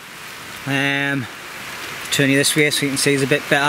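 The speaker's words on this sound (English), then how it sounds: "The rain's just started picking up again." Rain falls steadily at a riverside campsite at dusk, a continuous wash of patter heard close by, with someone talking over it throughout and a dog whining in short bursts.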